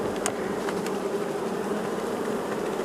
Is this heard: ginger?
no